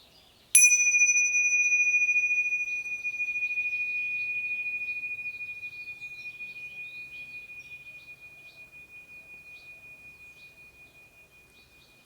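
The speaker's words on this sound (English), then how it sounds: "So feel it again in the resonance of the bell." A single bell is struck once and rings out with a pure, sustained tone that slowly fades over about eleven seconds of near silence.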